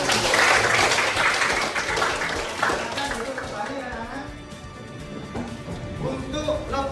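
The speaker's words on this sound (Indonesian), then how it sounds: "Tepuk tangan." Schoolchildren in a classroom clap their hands together as a group, a dense burst of loud clapping at first that thins out over several seconds, with voices chattering through it.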